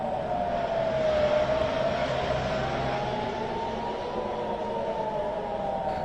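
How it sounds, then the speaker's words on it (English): A distant air raid siren wails steadily in Jerusalem, its tone slowly rising and falling over a constant low rumble. "You're hearing these sirens."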